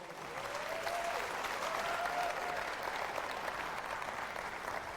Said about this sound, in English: Let's give Mr. Maxwell Dodd a big round of applause.